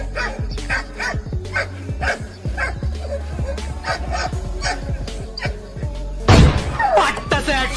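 Several dogs bark rapidly and loudly at close range while harassing a horse, their yelps overlapping in quick bursts, followed by a sudden loud thump and scuffle near the end.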